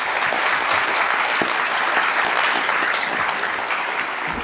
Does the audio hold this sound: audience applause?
yes